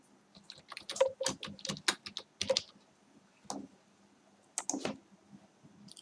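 Typing on a computer keyboard while giving feedback in a real-time assessment tool: bursts of close, crisp key clicks in irregular clusters, with pauses between runs, no talking.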